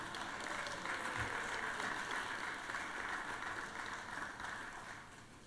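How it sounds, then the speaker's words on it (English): Sustained applause from a crowd in a legislative chamber, steady and fairly distant, welcoming guests and fading slightly toward the end. "Let's give all of them a round of applause here."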